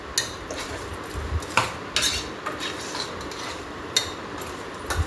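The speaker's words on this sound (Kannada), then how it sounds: "ಈಗ ಇದನ್ನೆಲ್ಲ ಚೆನ್ನಾಗಿ ಮಿಕ್ಸ್ ಮಾಡ್ಕೊಳ್ತಾ ಇದ್ದೀನಿ" A spoon stirs vegetable sambar ingredients in a metal pot, producing sharp clinks and scraping knocks at an uneven pace, close and clear with no voices.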